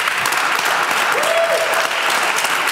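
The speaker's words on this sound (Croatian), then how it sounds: "Veliki aplauz" Loud, continuous studio audience applause on a TV talk show, a thick wash of clapping with no pause and a brief whistle-like tone near the middle.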